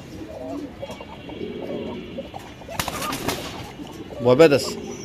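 Pigeons coo softly at a pigeon farm in Mirpur, Dhaka, with a louder burst of cooing near the end, while people talk nearby and birds rustle.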